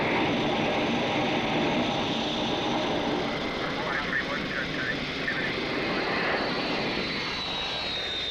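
Jet airliner engines roar steadily at an airport during takeoff, a loud continuous broadband rumble and whine with a rising high tone near the end, with radio voices over it.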